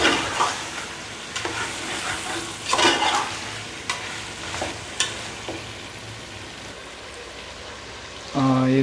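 Potatoes fry and sizzle with chicken curry in a pot, a steady crackle broken by several louder scraping stirs, close and loud, with a brief thump near the end and no speech.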